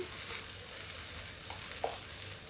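Onion and a pinch of asafoetida fry in hot oil, making a steady, close sizzle with a few small pops and stirring sounds. No voices are heard.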